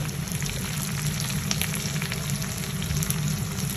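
Large anchovies (dilis) fry in hot oil until brown, a steady dense crackling sizzle with fine popping throughout, close and continuous with no talking.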